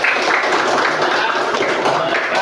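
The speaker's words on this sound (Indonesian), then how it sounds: "Tepuk tangan" A classroom of students applauds, a dense steady wash of clapping held at even loudness from start to finish.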